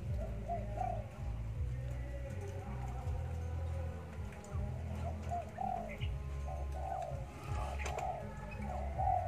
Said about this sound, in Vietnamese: Đây chim sảy.